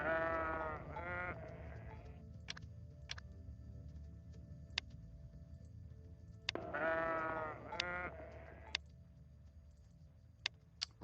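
Sheep bleating in the Capitalism Lab business simulation game, two clear close bleats several seconds apart over a steady low hum, with sharp clicking ticks scattered in between.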